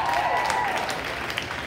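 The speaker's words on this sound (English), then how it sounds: "let's give them a round of applause" An audience at a school winter homecoming event applauds a swimming team, steady close clapping from many hands filling the short moment.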